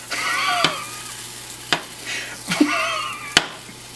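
Pancake batter sizzles in a hot pan on a home kitchen stove, with a steady frying hiss broken by several sharp scraping clicks of a spatula.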